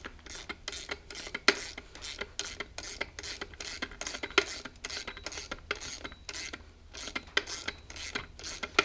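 A ratchet wrench tightens a bolt on a rear lowering spring of a Gen 5 Camaro ZL1, giving a quiet, steady run of rapid clicking strokes, close and regular, with no talking.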